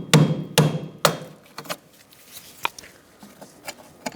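A hammer tapping near the parking brake cable bolt on a 2002-2006 Honda CR-V: three sharp, close metallic blows, then a string of lighter, scattered knocks.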